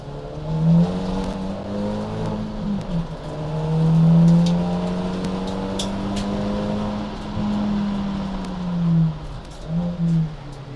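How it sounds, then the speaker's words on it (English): Hyundai number 92 race car pulling out of the pit lane onto the track at the Nürburgring 24-hour race, its engine droning and rising through gears, fairly close and loud, with no talk over it. "Another pit stop completed, and the car ventures back out on track, going like clockwork."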